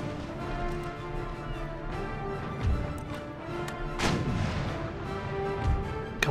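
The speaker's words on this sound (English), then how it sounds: "You keep chucking chain shot." Naval cannons firing chain shot in the video game Empire: Total War, with deep booms at scattered intervals over a steady battle ambience and music, the loudest blast around four seconds.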